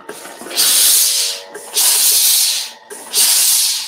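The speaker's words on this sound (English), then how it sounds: "Give it a little steam, use the clapper." Steam iron hissing in three long, loud bursts with short pauses between them while a sewn-in sleeve is pressed, close and alone without talk.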